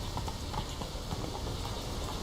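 Steady trotting hoofbeats from Roach, the horse in Witcher 3, clop evenly and close for a couple of seconds over a dense game ambience, with no talking.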